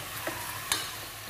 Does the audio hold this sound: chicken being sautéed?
yes